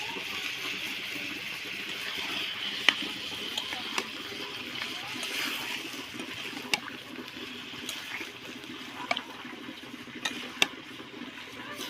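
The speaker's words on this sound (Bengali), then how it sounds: "দিচ্ছি সামান্য পরিমাণ জল।" A small amount of water is poured into a cooking pan while making a Bengali village-style fish curry, giving a steady, close trickling hiss with a few light clicks and no talk.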